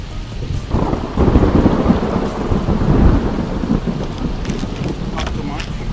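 Thunder rolls in a long, low rumble over steady rain at an island campsite, the storm swelling in the middle and then easing, with faint voices nearby.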